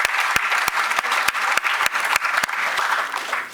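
A steady round of applause from a sizable crowd at an awards ceremony, with claps ringing out sharply throughout.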